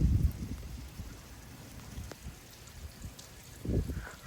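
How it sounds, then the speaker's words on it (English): Rain from a severe storm falls softly and steadily as it eases, faint and even, with occasional low gusty swells and no voices. "the rain's starting to die down"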